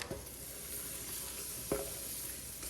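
Butter melting into grapeseed oil in a hot pan for smothered pork tips, a soft steady sizzle close by with a couple of brief clanks of a utensil against the pan, no talk.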